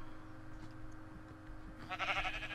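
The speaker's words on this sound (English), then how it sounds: "Damn you, sheep!" A Minecraft sheep bleats once, a short wavering bleat near the end over a low steady game hum.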